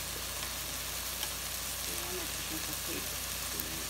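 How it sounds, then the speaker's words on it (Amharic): Ginger and garlic frying in a pan, a steady, even sizzle that stays constant and moderately loud throughout, with faint voice-like sounds in the background. "አሁን የሚጨምረው ዝንጅብልና ነጭ ሽንኩርት"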